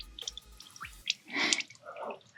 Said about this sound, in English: I'm going to go ahead and let this drip for a little bit